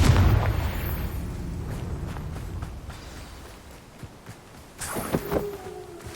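A Confringo fire spell bursts with a loud booming blast at the start in Hogwarts Legacy, then rumbling debris and scattered footsteps follow, with a sharper crackling burst near the end.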